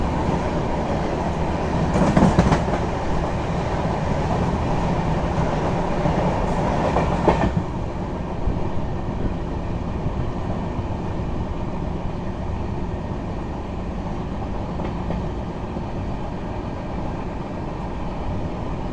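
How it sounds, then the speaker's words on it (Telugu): The Coromandel Express rolls along the rails at speed in heavy rain, a loud, continuous rumble with rhythmic clickety-clack from the wheels and a brief louder rush early on, heard from inside a carriage. "మొత్తానికి మన కోరమండల్ ఎక్స్ప్రెస్ ఊపు అందుకుందండి"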